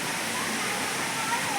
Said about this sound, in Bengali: এটা সেই সুন্দর লাগছে না, পাশে ঝর্ণা।